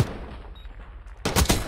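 A Jackal submachine gun in a Black Ops match fires at close range: a quiet stretch breaks into a sudden rapid burst of loud, sharp shots near the end.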